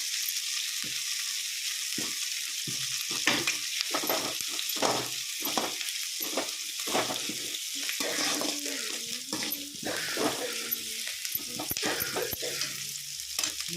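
Noodles fry and brown in a pan with chilli sauce, a steady close sizzle broken by repeated scraping stirs that come in a quick, uneven rhythm throughout.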